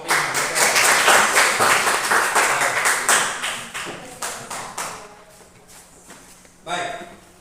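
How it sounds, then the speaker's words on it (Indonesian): Clapping for a group after a presentation in an Indonesian campus session, loud at first with distinct rhythmic claps, fading over several seconds, then a short final burst near the end. "Ya, silakan tepuk tangan untuk kelompok ini."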